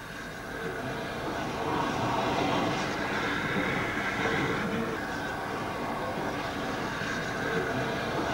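A steam locomotive working a local branch train at Huesca, Spain, rumbles steadily along with broadband mechanical noise, fairly close and continuous, without clear chuffing beats.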